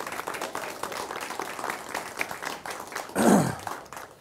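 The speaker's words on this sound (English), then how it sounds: "Ladies and gentlemen, how about a round of applause for the humanity of these incredible teachers?" Audience applause for teachers at a Teacher of the Year awards event, steady moderate clapping for about four seconds, interrupted near the end by a brief loud whoop or cheer.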